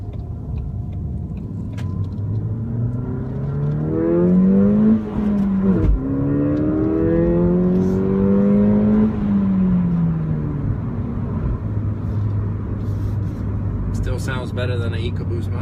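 A 2016 Ford Fiesta ST revs hard under acceleration from inside the cabin, its engine note climbing and then dropping through the gear changes before it settles into a steady cruising drone, while talk carries on over it.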